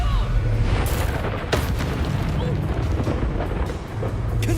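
Booming spell explosions in the Hogwarts Legacy video game, loud and continuous with dense rumbling bursts and sharp transient hits throughout.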